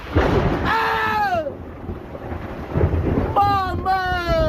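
Thunder rolling through a forest around a small cabin, a broad steady rumble lasting throughout, with loud voices calling out over it at the start and end.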